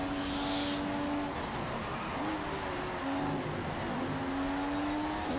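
Race car engine from the game F1 2015, a steady loud drone with tonal engine pitch rising and shifting through gear changes, continuous throughout with no talk.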